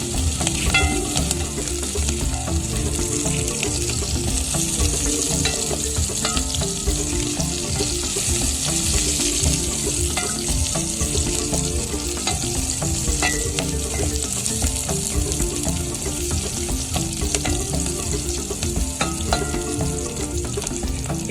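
Green pepper and carrots sizzle and crackle steadily in a hot pan, stirred continuously with a metal utensil scraping at a constant rhythm for the whole stretch, close and moderately loud with no talking.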